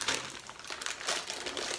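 Sour Patch Fire and Freeze candy packaging crinkles and rustles close up as it is pulled open, a dense burst of crackling plastic with no voices.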